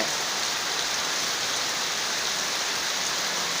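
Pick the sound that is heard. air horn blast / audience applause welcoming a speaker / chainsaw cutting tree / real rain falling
real rain falling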